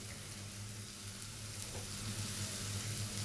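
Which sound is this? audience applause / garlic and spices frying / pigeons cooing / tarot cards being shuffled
garlic and spices frying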